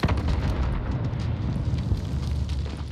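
A deep, rumbling blast from an explosive charge in Call of Duty: Warzone on PC, a sustained heavy boom and roar that fills the whole stretch without any voices.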